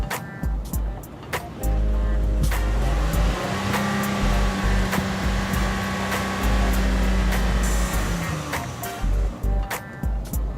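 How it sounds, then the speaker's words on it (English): A used auction car's engine idles smoothly and steadily, a close, even hum with a few clicks and bumps around it. "But the motor sounds like a sewing machine."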